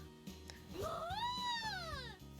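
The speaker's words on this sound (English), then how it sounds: "Cats!" A cat in the video game Umamusume lets out one drawn-out, rising then falling meow over soft background game music.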